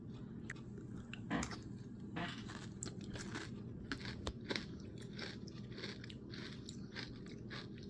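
Chocolate Special K cereal is bitten and chewed up close, with sharp crunches and crackly chewing repeating steadily over a low background hum.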